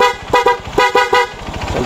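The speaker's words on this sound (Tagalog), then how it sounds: "So lakas ang busina natin" Horn on a Supremo 150 motorcycle fitted with a dual contact passing and high beam switch, honking in several short loud toots in an irregular rhythm, close by.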